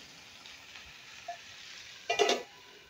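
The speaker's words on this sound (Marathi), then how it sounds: "आपण 1-2 मिनटं आहे ना स्लो गॅसवर या भाजीला वाफवून घ्यायची" Vegetable dish steaming in a pan over a low gas flame, giving a soft, steady sizzle with a brief louder burst of clattering and stirring near the end.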